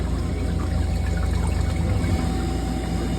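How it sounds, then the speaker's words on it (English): Water pump of a Scotsman ice machine running during a harvest problem, giving a steady, close rushing and pouring wash of water with a constant mechanical hum, with no talk over it. "The water pump just started again."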